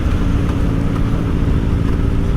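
A motorcycle engine revs up close with a loud, continuous exhaust roar, holding steady and throbbing throughout with no talking over it.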